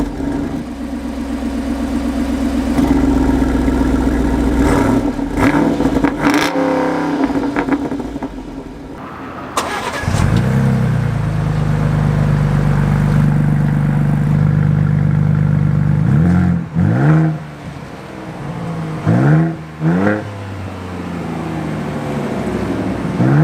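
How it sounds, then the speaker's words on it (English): An SUV engine idles with a deep rumble, then cranks and starts, settling into a throaty idle with several sharp exhaust revs toward the end. "Now let's listen to the exhaust on both of these."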